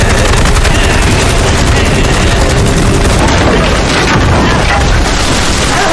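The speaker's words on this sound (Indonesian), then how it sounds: "dia pun mengambil alih menembakkan ke arah bom di mulut Godzilla dan berhasil meledakkannya" Loud, dense battle din from the film Godzilla Minus One: rapid gunfire rattles over deep booming bomb blasts, a continuous roar of explosions and shots with no pause throughout.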